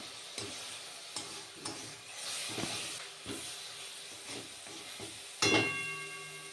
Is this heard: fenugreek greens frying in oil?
yes